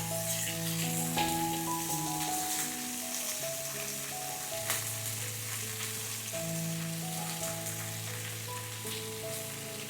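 Marinated prawns searing in a hot pan, a steady continuous sizzle with soft crackling throughout, over music with no talk.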